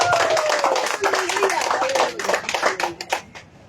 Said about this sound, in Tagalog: Bakasan mo palakpak ninyo sa Panginoon.